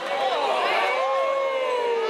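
A basketball crowd at a boys' state high school game reacts to a play, a sustained roar of cheering and shouting voices filling the gym at steady, fairly loud volume.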